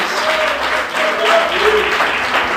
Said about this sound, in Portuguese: Sempre a Deus a palma mais forte